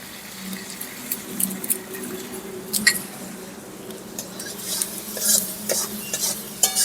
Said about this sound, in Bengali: মশলাগুলোকে খুব ভালো করে নাড়াচাড়া দিয়ে কষিয়ে নেব